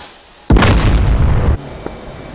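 A loud, close explosion from bombs hitting and destroying a large rectangular building in the DCS combat flight simulator: a sudden broadband blast roaring for about a second, then cutting off to a low rumble with one small later pop.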